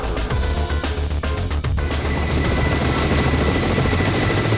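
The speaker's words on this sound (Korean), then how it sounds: "외줄타기를 하듯 아슬아슬한 가운데 고난이도 비행 능력이 요구되는 헬기의 담수 과정" A forest service helicopter hovers low over a reservoir to scoop water for fighting mountain fires, its rotor roar loud, steady and close throughout.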